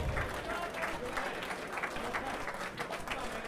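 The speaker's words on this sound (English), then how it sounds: "This crowd showing their appreciation." A wrestling arena crowd applauds steadily during a Limitless match between Channing Thomas and Anthony Greene, a dense, even wash of clapping throughout with a commentator's voice faintly underneath.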